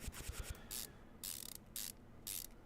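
Ratchet clicks from Car Mechanic Simulator 2015 as bolts are tightened: a quick burst of sharp ticks, then three loud, separate ratcheting strokes in steady rhythm, close and clear with no talk.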